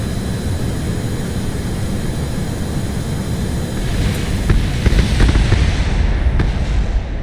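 Aircraft taking off from a runway in a video game, a loud, steady engine roar that swells and grows harsher with crackling bursts toward the end.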